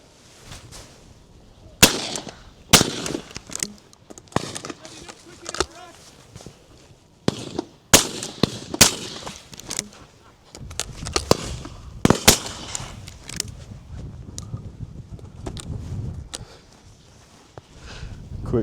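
Shotguns fire at driven pheasant and partridge on a UK shoot, sharp loud cracks in quick pairs and singles at close and middle distance, with handling noises and outdoor talk between shots.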